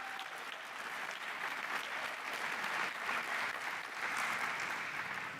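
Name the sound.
audience applause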